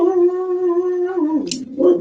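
Dog gives a single sustained, close tonal howl lasting more than a second, ending in a short whine and a faint higher yelp.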